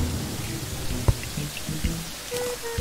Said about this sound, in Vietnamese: Mưa tầm tã luôn rồi.